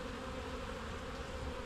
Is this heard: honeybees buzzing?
yes